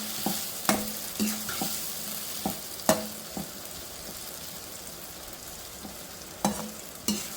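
Banana flower curry with Kashmiri chili sizzles steadily in a non-cast-iron pan while a spatula stirs it, with sharp scrapes and knocks at an irregular beat over the constant frying hiss.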